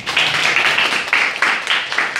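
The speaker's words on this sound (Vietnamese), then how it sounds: "vỗ tay nha" An audience at a seminar applauds steadily, a dense, even patter of many hands clapping close and loud for a couple of seconds, with no talking.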